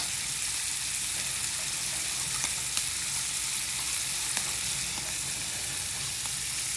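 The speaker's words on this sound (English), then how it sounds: "I'm gonna add the garlic here." Garlic and onions sizzle steadily in a hot pan, a dense continuous frying hiss with a few faint clicks and pops scattered throughout, close and even in level with no talking.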